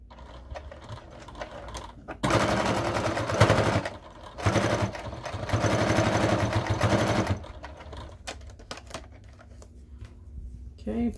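A sewing machine backstitches a camera or guitar strap in two loud, fast bursts of rapid mechanical clatter. Quiet handling noises come between and after the bursts, and a short spoken remark is heard near the start.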